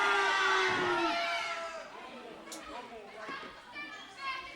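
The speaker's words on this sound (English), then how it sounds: "now the fans are cheering him" A small-town crowd at a West Virginia wrestling show cheers and shouts, a mix of excited voices and children's yells that swells at the start and fades into scattered calls.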